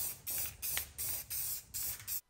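Aerosol spray paint hisses in six short bursts onto an LS engine timing chain cover, loud and close, with brief gaps between bursts and no talking.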